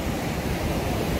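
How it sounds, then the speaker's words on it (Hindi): Tiger Waterfall at Chakrata, Uttarakhand, pours with powerful rushing water, a dense, loud, continuous roar close by with no breaks or voices. "देखो झरने बह रहे हैं यहाँ पर"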